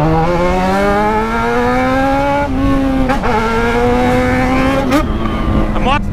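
A Yamaha XJ6 motorcycle engine held at high revs, a loud, buzzing harmonic whine that climbs slowly and then repeatedly bounces off the rev limiter in sharp stuttering cuts, close by.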